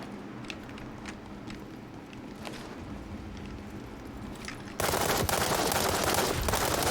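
Scattered gunfire in the shooter game World War 3, with sparse distant shots over a low ambient hum that give way to a louder, denser stretch of battle noise near the end.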